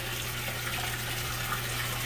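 Water with rescued fish gushing steadily into a tub, a continuous close rushing pour with a low hum underneath and no talk.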